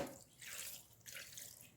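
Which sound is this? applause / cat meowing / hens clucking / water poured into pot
water poured into pot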